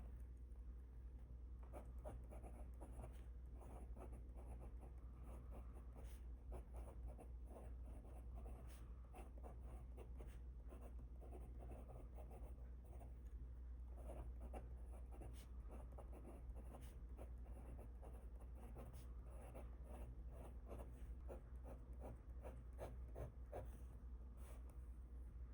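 A Pilot Kakuno fountain pen with a medium nib writes on paper, a soft, close, continuous scratching with small stroke-by-stroke pulses and no voices.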